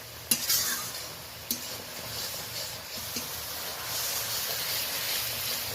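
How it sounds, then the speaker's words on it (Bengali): Ground turmeric, chilli, cumin and coriander are stirred and fried in oil for a topse fish curry, a soft steady sizzle with a few sharp spatula clanks early on, then a fuller hiss toward the end. "মশলাটা ভালো করে নাড়াচাড়া করে দিলাম"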